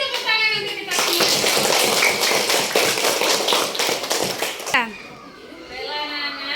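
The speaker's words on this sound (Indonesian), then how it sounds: "kasih tepuk tangan untuk kita semua" Children clap their hands together in a classroom, a loud burst of dense, rhythmic claps lasting about four seconds before stopping abruptly, with children's voices chattering around it.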